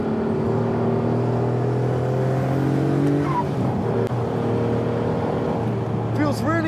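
A Noble M12 GTO3R drives on track, its engine giving a loud, steady drone that shifts in pitch as it slows for a corner and then pulls away again.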